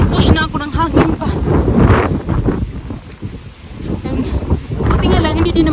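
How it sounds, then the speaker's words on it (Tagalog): Strong gusts of wind blow straight into the microphone outdoors in light drizzle, a loud rumbling roar that rises and falls, while someone talks over it. "Maraming lakas na hangin mga katsika, yung tipo na napupush na ako ng hangin pa"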